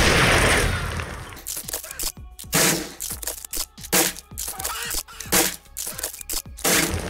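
Rapid bursts of repeated video-game gunfire, loud and close, sharp cracks in uneven clusters separated by short gaps, with a voice briefly heard.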